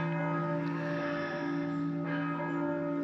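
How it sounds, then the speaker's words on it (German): Church bells ring steadily and fairly loud, their tones sustained and overlapping throughout, heard outdoors in western Slovenia between Bled and Ljubljana. "Ja, Glocken läuten."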